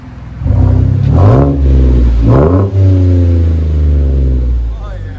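A Chevy Silverado 4.3 V6 fitted with a Kooks exhaust revs hard twice in quick succession, each rise climbing and falling, then settles into a loud, rumbling idle close by.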